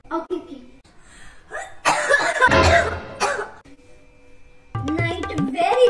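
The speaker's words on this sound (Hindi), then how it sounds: "Very very खांसी हो रही." Several harsh coughs close to the microphone, a loud fit in the middle, with brief talk-like sounds before and after.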